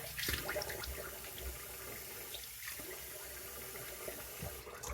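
Tap water runs and splashes as a face is rinsed after an alum block during a wet shave, a steady close hiss of flowing water with irregular splashing throughout and no voices.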